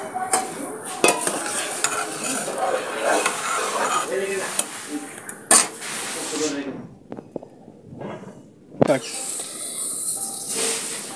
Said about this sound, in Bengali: এবার আমি দিয়ে দেব গোবিন্দভোগ চাল, যেটা আগে থেকে ধোয়া ছিল এবং জল ঝরানো ছিল।